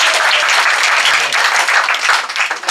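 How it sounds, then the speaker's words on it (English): Church congregation applauding and clapping for a group of young disciples at a weekend gathering, a steady dense wash of hands that holds at even loudness throughout, with no voices over it. "Let's give them a hand."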